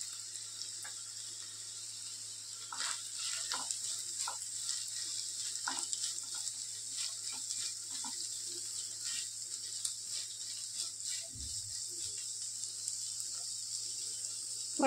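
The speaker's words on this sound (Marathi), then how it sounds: "छान परतून घेऊ आपण आणि मग झाकण ठेवूया" Carrots and capsicum sautéing in a pan with softened tomatoes for veg kheema, a steady soft sizzle with small scraping stirs throughout, fairly close and alone.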